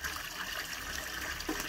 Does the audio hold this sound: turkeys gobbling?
no